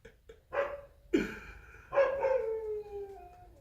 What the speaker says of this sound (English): There's something about my dog. He doesn't bark any other time, except when it's time for Create 30.